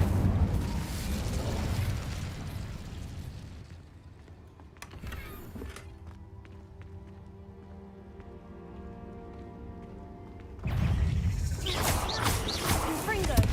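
Incendio fire spell cast in Hogwarts Legacy, a loud rushing crackle of flames that falls away into a ringing, hissing tail before another roaring fiery burst.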